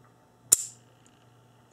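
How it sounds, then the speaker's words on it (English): The trigger of a Colt Official Police revolver is pulled and its hammer releases with a single crisp, close mechanical click that fades quickly. The room around it is otherwise quiet. "And when we pull the trigger,"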